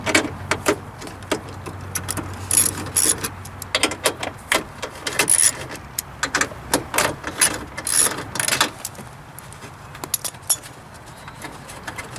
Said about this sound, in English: Now you got to break loose the bolts for the motor.